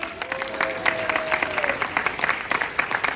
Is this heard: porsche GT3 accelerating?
no